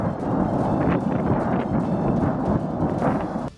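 Ammunition explodes at an army weapons depot on fire in Ryazan, Russia, heard as a sustained, heavy rumbling roar with repeated deep booms and crackling bursts, loud and continuous, with no voices.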